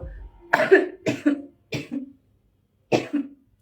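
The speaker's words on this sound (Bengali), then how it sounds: "আমার কাশি আসছে" A woman coughs four times in separate bursts, two quick coughs close together, another, then a last one after a pause, close and fairly loud with throat-clearing quality.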